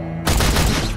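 A sudden loud burst of sniper rifle gunfire cuts in after a brief low hum and rings out heavily across open ground, a dense booming blast that fills the rest of the moment.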